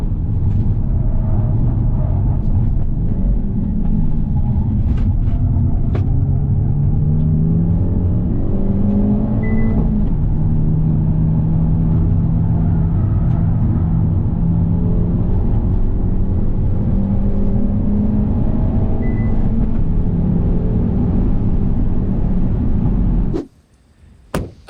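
A Hyundai Elantra N lapping a track at speed, its engine droning loud and steady with rising and falling pitch through gear changes and corners, recorded from on board, cutting off abruptly at the end.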